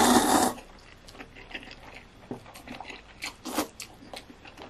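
A loud burst of noise opens, then close, irregular slurps, bites and chewing of thick, firm noodles follow, with no talk.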